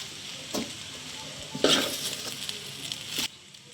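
Kottu roti being stirred and fried in a pan, with a steady close sizzle and scraping stirs, bursts of clatter around one and three seconds, then the frying fades quietly.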